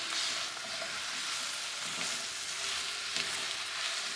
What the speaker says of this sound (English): now it's just going to saute, and it's going to be a few minutes